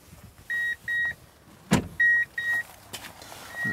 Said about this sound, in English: stop that annoying beeping